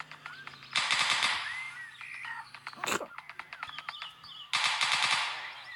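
Gunshots in a GTA game on Android: two loud bursts of rapid automatic fire bracket a sharp single shot and a cluster of quicker pops, with game chirps in the background.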